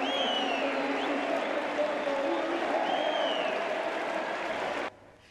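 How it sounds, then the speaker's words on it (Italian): Football stadium crowd of Lanciano supporters applauding their team's rise to third place, a steady broad wash of distant clapping and cheering with faint voices mixed in, cutting off abruptly near the end. "Il Lanciano sale al terzo posto tra gli applausi di tutto il popolo di fede rossonera."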